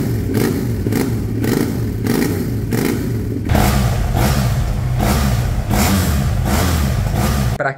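A parallel two-cylinder motorcycle engine revs in repeated rhythmic bursts, loud and close, each surge pulsing with a throaty, uneven firing note, the blips growing fuller and more rapid partway through before cutting off at the end.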